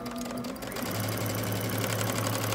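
Close, continuous whirring of a sewing machine stitching and backstitching fabric for pants, a steady motor hum with rapid needle clatter, a short shift in pitch near the start.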